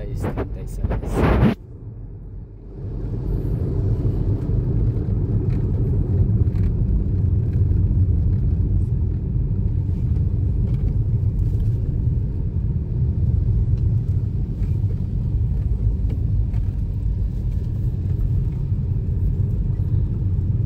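Road traffic in Davao city at peak hour: a continuous loud low rumble of car and vehicle engines, with a brief clatter at the start.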